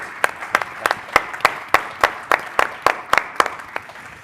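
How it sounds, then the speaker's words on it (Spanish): Audience members at a Spanish data-centre conference clap in sparse, evenly spaced claps, close and fairly loud, about a dozen distinct claps over a few seconds rather than a full ovation. "se merecen un aplauso."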